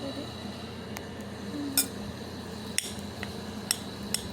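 Metal cutlery knife clinking and scraping against a plate while cutting an egg, a few sharp light clinks scattered over a low background hum with faint voices nearby.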